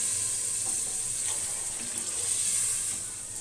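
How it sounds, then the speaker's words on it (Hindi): Water pours steadily into a pot of chickpea shorba, a continuous close splashing rush that eases slightly near the end. "इसी के साथ में डाल दूंगी दूसरा पानी, जितना आप इसका शोरबा रखना चाहें।"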